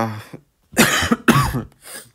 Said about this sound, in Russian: Извиняюсь за кашель.